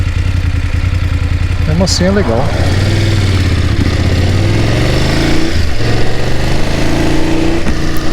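A BMW F750GS motorcycle engine runs with a steady, rough low drone beneath someone talking throughout.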